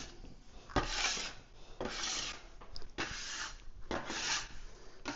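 A bench scraper drags across pastry dough on a floured work bench in four or five rough, rasping strokes spaced about a second apart, close and fairly soft.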